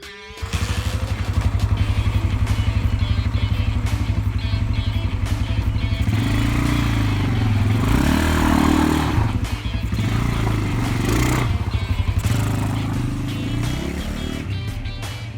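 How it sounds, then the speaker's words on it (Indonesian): A Honda CB DOHC motorcycle on a test ride, its engine running steadily and loudly throughout, with rising revs and shifts in pitch as it accelerates and changes gear, and no talking. "Mari kita test ride CB Megatron saya."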